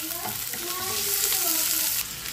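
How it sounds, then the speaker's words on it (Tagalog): Onion and garlic sautéing in a hot pan for sweet and sour shrimp, a steady, close sizzle and crackle that holds throughout, with faint stirring mixed in and a brief drop in level near the end. "onion at garlic. Gisa natin yan hanggang sa bumangon"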